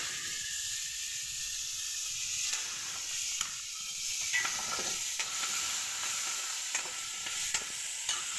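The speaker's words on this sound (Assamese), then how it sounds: "এতিয়া পিঁয়াজখিনি ভজা হৈ গৈছে" Onions, tomatoes and peas frying in a pan with steady sizzling and hiss, broken by occasional stirring scrapes and clinks, close and continuous with no talking.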